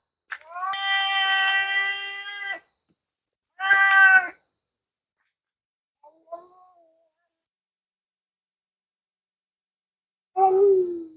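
A cat on a farm meows in three separate bursts: a long, drawn-out cry, a shorter call a second later, then a final meow after a long quiet stretch, with a faint brief sound in between.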